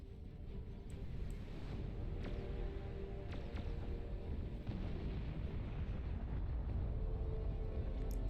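A nuclear explosion in a real-time strategy video game match, heard as a low, continuous rumbling roar with scattered distant crackles and booms, steady and fairly faint throughout.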